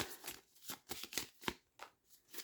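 Tarot cards being shuffled by hand, a run of crisp riffling bursts and soft card slaps repeating close by in an irregular rhythm, with no talking.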